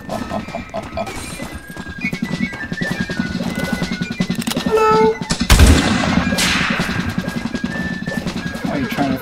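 Flintlock gunshots crack in a Roblox battle, with a loud close blast and crash among rapid shots, horse neighs and clattering.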